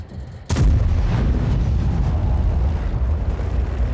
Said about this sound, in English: Maybe I can get one shot in before he gets back into cover.